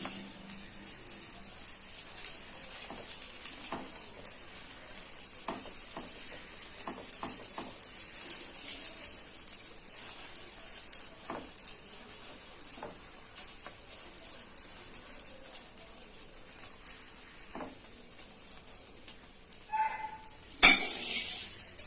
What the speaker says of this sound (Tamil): மேல கொஞ்சம் எண்ணெய் லைட் விட்டுக்கலாம் இப்போ மேகி போட்டுடலாம்